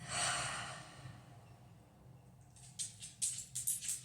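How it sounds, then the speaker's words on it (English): One deep cleansing breath drawn in and released as a long, soft exhale during breathwork, followed by quieter, choppy breathing sounds close by, with no speech. "Take a nice cleansing breath."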